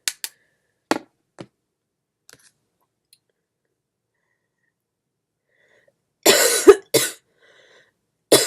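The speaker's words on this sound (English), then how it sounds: "Forgive me if I start coughing." Several short, sharp bursts spaced apart in quiet, then a louder cluster of two or three harsh coughs near the end.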